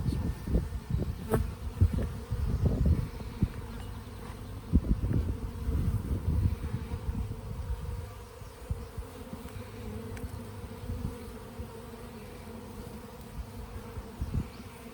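Honeybees from an open top bar hive being moved into a Langstroth hive buzz steadily all around, a close, continuous drone with louder swells in the first half as individual bees pass near.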